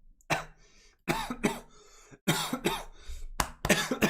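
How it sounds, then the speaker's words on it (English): A run of harsh, close coughs in several bursts with short pauses between, ending in a throat-clearing hack. "I don't know what I was coughing on"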